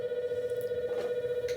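A telephone rings steadily with a sustained electronic tone, moderately loud and alone, during a troubleshooting session at a mad scientist tea party in Asheville, North Carolina.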